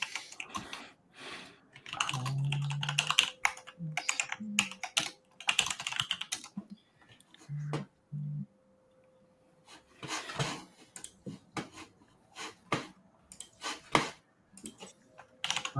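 Computer keyboard typing comes in quick bursts of clicky keystrokes with pauses between them, close and fairly quiet, with no talk over it.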